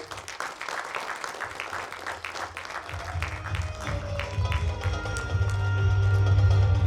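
Loud applause from an audience, a dense steady clapping that swells and grows stronger toward the end.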